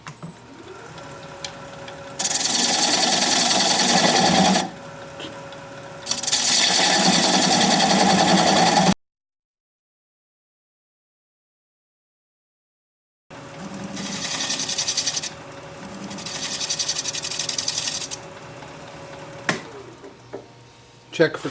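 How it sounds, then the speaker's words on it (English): A wood lathe turns quilted maple while a 3/8 inch standard grind bowl gouge removes a tenon, giving a steady motor hum with surging, harsh cutting noise that drops out into silence mid-way before resuming. "I'm going to grab a 3/8 inch standard grind bowl gouge and just begin removing this tenon"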